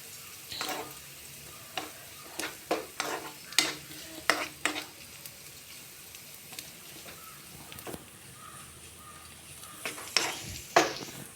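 Garlic sautéed in oil for a pepper chicken roast, a soft low sizzle under repeated sharp scrapes and taps of a spoon against the pan in irregular bursts, quiet between strokes.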